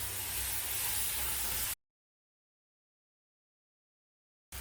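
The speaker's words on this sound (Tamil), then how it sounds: "இப்போ அரைச்ச மசாலாவை இதில் சேர்த்துடலாம் சேர்த்து ஒரு நிமிஷம் வதக்கிடலாம்" Ground masala paste for egg kurma sizzles loudly in a hot pan, a dense close hiss that cuts off abruptly into silence before briefly bursting back at the end.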